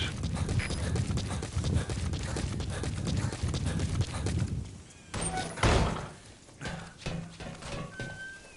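Horse hooves in Metal Gear Solid V: The Phantom Pain clip-clop in a steady rhythm, then break off into a few heavier thuds and scattered steps, with no talk over them.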